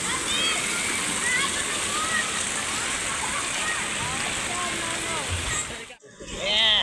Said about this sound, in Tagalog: Ala, yan na yung wave. Wave pool, yan na.